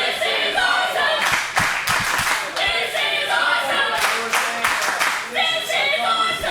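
A wrestling crowd at an MPW Millennium Cup show claps in sharp bursts and cheers, with sustained shouting underneath and a commentator talking over the noise.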